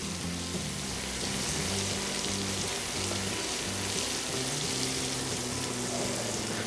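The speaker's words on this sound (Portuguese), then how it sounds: "Você mistura bem até toda a margarina ou manteiga derreterem" Caramel sizzles steadily in a pan as margarine or butter melts into it, with a constant bubbling hiss and faint stirring throughout, no voices.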